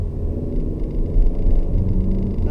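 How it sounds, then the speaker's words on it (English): A 2020 Toyota RAV4 TRD Off Road pulls up to speed under normal acceleration, giving a steady low engine and road rumble heard from inside the cabin with no talk. "Just normal get up to speed acceleration here"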